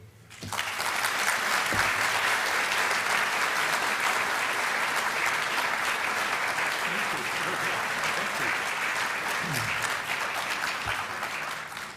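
An audience breaks into sustained applause to welcome a speaker at a lecture, a full steady roll of clapping that begins abruptly and fills the whole stretch, with a faint murmur of voices beneath.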